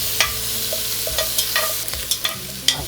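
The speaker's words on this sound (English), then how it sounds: "We're just going to cook this until the tomato paste is kind of cooked." Tomato paste and four cloves of garlic stir-fry in a pan for braised short ribs, a steady close sizzle broken by repeated sharp scrapes and clicks of a spoon stirring against the pan.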